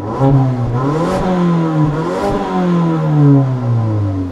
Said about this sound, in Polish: A teraz jeszcze test brzmienia silnika, bo podobno w wersji poliftingu nieco poprawiono wydech.